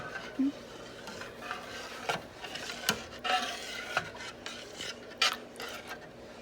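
A spoon scrapes and rubs around a pot of thickening enchilada sauce, quiet rasping strokes with occasional sharper knocks, steady and close with no talking.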